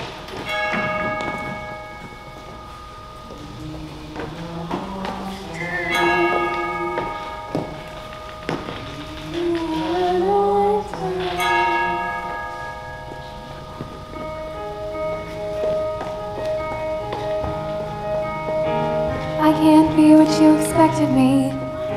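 Bells ring out to mark a coronation in a youth stage production of Disney's Frozen JR., with sustained tonal chimes layered over orchestral music, fairly loud and continuous with no talk.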